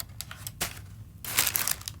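Loose paper crinkles and rustles as a box is unboxed, with soft intermittent crackles building to a denser, louder burst of crumpling near the end, recorded close and without talk.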